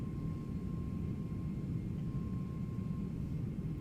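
LEAP engines of a Toliss A321neo hum in a flight simulator game, a steady, even low roar with a faint constant tone above it, continuous and unchanging throughout.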